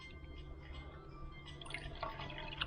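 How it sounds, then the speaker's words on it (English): A cup of 2% milk is poured into a cooking pot on a low flame, giving a continuous close trickle and splash over low background hum, with a few brighter drips near the end. "So let's pour that milk in."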